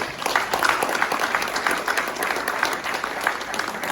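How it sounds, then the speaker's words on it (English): An audience at a live coaching session breaking into a warm round of applause for a participant named Michael, dense continuous clapping close and loud throughout, without talk. "Everybody give Michael a round of applause."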